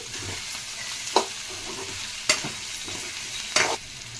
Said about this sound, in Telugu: దొండకాయలు నీరు సగం పోయే వరకు వేయించుకోవాలండి. ఇవన్నీ కొంచెం వేగాలండి.